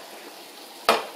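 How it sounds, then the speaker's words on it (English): Ginger and turmeric tea boils in a pot, a soft steady bubbling hiss, then a single sudden scrape and clatter as a spoon stirs it, close and bright. "I'm just going to stir it a little bit."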